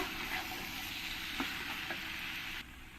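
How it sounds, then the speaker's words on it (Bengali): Boiled jackfruit being stir-fried with spices in a pan, a soft, even sizzle with a couple of faint taps of stirring, steady throughout and dropping slightly near the end, no talking. "এই সেদ্ধ এঁচড়গুলো দিয়ে দেবো দিয়ে ভালো করে আমি মশলার সঙ্গে একসঙ্গে কষিয়ে নেব"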